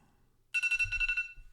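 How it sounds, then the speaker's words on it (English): A phone alarm starts abruptly after a short quiet stretch and rings on in a bright, repeating electronic pattern, loud and close. "Well, that was my alarm."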